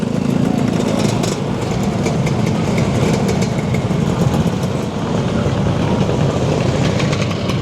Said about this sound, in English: There's just scooters absolutely everywhere coming up and down here.